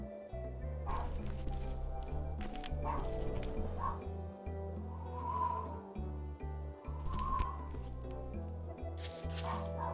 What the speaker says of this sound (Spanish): Y ahí mi perra ladra